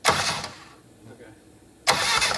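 A Willys CJ2A jeep's starter cranks the engine in two short, loud bursts separated by a quieter pause.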